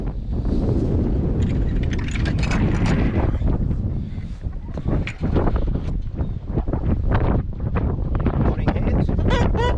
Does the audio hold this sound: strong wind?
yes